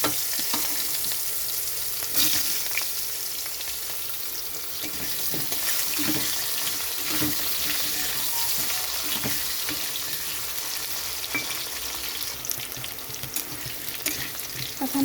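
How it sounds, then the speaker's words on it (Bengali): Potatoes sizzle and fry in a wok with whole cumin and green chilli, a steady crackling hiss with occasional stirring clatters, close and continuous with no talking. "এখানে আলুটা ভাজা হয়ে গেছে একটু"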